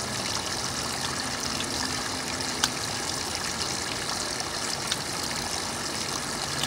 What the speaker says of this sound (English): I'm going to set this here so you can hear the, possibly hear the fuel pump